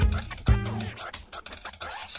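A dog barks once sharply in the Assassin's Creed Unity game, amid a busy crowd scene in Paris with noisy game sounds continuing after it.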